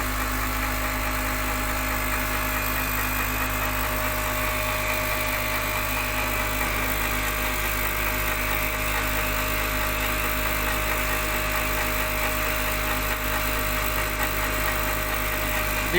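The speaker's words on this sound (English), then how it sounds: "Now if we switch on, the machine starts rotating and it is giving RPM" Lab machine spinning steadily at 3000 RPM, a constant mechanical hum with a fixed motor whine and no change in pitch or loudness throughout.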